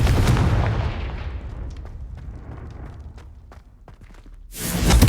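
A Confringo fire spell blast in the video game Hogwarts Legacy: one loud, booming burst that fades over a few seconds, followed by faint clicks and another rising surge at the end.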